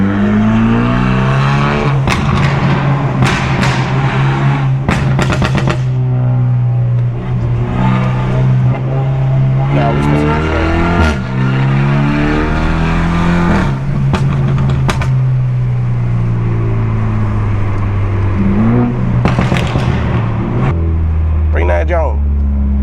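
A Stage 2+ 2016 BMW 328i with a straight-pipe exhaust roars from inside the car while cutting through highway traffic. Its loud droning engine note rises and falls through repeated revs and gear changes, with occasional voices in the cabin.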